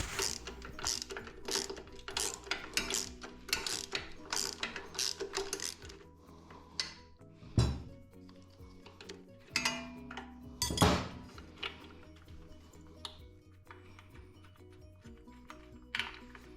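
Top bolts on the bottom motor mount bracket of a 2001 Harley-Davidson Sportster 1200S being loosened with a ratchet: rapid metallic ratcheting clicks in bursts, occasional louder clanks of tools on metal, close and quiet.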